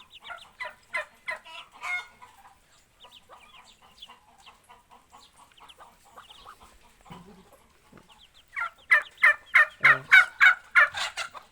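A farmyard turkey gobbles in quick rattling series, a close burst at the start, quieter clucks and calls in the middle, then a louder rapid gobble near the end.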